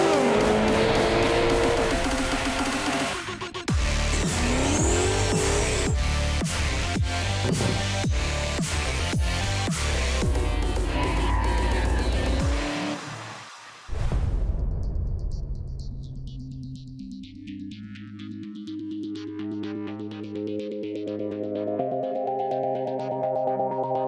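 Sprint cars racing at Premier Speedway in Warrnambool, Victoria, during the Australian Sprint Car Championship: loud roaring engines with rapid revving and passes, a brief drop midway, then music rising over the last stretch.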